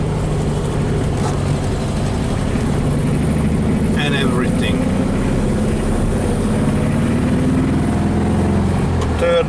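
A 1961 VW Beetle drives along with a constant low engine drone and road rumble from inside the cabin, while a few brief rattles from a loose body or seat part sound toward the back.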